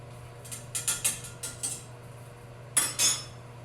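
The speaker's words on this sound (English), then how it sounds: "I'm gonna give our pasta a little stir just to make sure it's happy" Metal utensil scraping and clinking against a pot while pasta is stirred, a run of soft knocks followed by two sharper clanks near the end, over a steady low hum.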